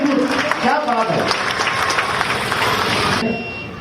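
Audience applause for a police constable's motorcycle stunt at an Azadi Ka Amrit Mahotsav celebration, a dense wash of clapping under a loud announcer's voice, fading out at the end.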